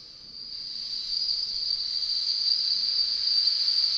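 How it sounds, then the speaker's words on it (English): A convolution effect made by processing a bean pod through a bell string produces a steady, cricket-like high hiss that swells slightly and holds without a break, with no voices. "Yeah, it's just going to be like crickets."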